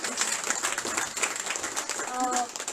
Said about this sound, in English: a huge round of applause for the ambassadors